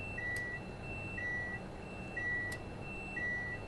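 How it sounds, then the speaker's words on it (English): A warning beep in a Pendolino train cab in Train Sim World 5, a video game, sounding as four evenly spaced steady tones, about one per second, over a low cab rumble, with no talking. "Oh my goodness me, it's beeping at me."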